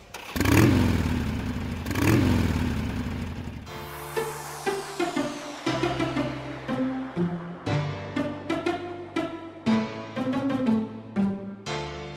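Enduro motorcycles racing on a dirt circuit at a championship round, engines revving loudly as bikes pass close by, then a busy stretch of repeated throttle bursts and gear changes from several machines.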